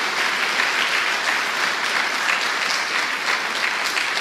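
Sustained applause from a church congregation, dense and steady throughout, loud and close with no voices standing out.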